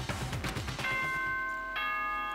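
A chime from the video game Danganronpa: Trigger Happy Havoc rings out after a short musical passage, a sustained bell-like tone that rises again near the end.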